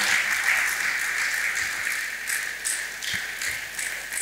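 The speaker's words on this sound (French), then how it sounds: "est-ce qu'on peut acclamer très fort pour le Seigneur?" Church conference congregation applauding for the pastor, a steady wash of clapping sustained throughout with scattered sharper claps, fairly loud and without talk.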